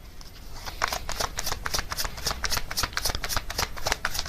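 A deck of oracle cards is shuffled close up in a crisp, rapid run of riffling flutters and soft slaps that repeats rhythmically for a few seconds.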